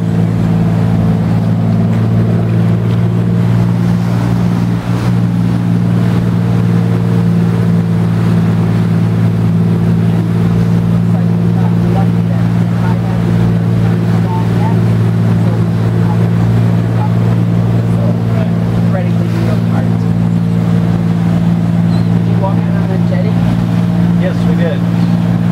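A motorboat runs steadily through choppy waves in Fort Pierce Inlet, its engine a constant loud drone with wind buffeting the microphone and water slapping the hull, while people talk over it.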